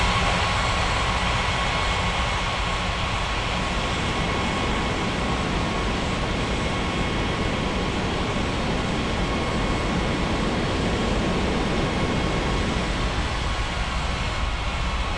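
Aircraft engines roar steadily at a busy airport in the air traffic control game Unmatched ATC, a dense continuous broadband rumble with no breaks and no voices.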